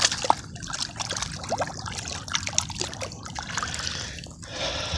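Water trickles and splashes as a freshly caught bass is rinsed at the water's edge on a fishing outing, a close, uneven dribbling with small splashes throughout.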